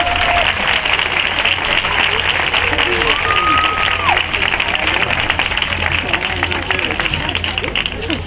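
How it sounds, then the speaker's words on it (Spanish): An audience at a wind band concert claps steadily and loudly for the whole stretch, a dense continuous wash of applause with faint crowd murmur and a brief whistle-like tone partway through. "otro fuerte aplauso para el gran Alex"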